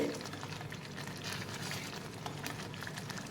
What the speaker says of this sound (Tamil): அது கொதிக்கிறப்ப மேலே தெரிக்குது